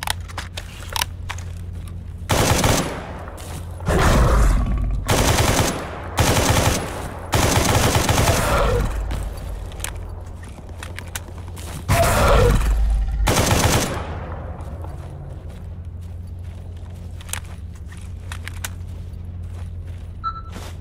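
Weapon fire in the STALKER Gamma video game: several loud bursts of rapid automatic shots separated by short pauses, close and sharp, with no talk.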